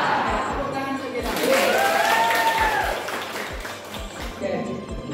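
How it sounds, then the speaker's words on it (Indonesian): A class of children claps together in a classroom, a steady broad patter of applause that swells and fades over a few seconds, with an adult voice and children's voices heard over it. "Tepuk tangan untuk kita."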